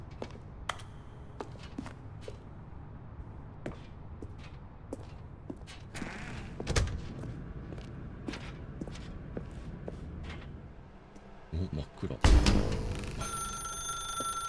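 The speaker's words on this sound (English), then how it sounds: "Now pick up the phone" A telephone rings inside a dark room in The Stanley Parable, heard among scattered light taps and footsteps, with a sharper burst of ringing near the end; no talking.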